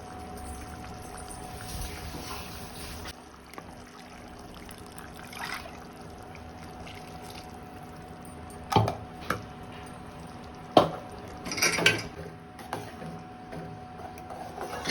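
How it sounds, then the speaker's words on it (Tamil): Faint water pouring and trickling into a pot of tamarind curry with grated coconut, steady and soft at first, then a few louder splashes and clinks near the end. "கொஞ்சமாக தண்ணி அலசி ஊற்றி இதில் ஊற்றிக்கலாம்"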